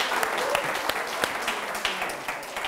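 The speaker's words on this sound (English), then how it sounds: "A round of applause for him." A studio audience at a Nigerian panel discussion applauds a speaker with steady, moderately soft clapping, individual sharp claps popping out of the continuous crowd sound.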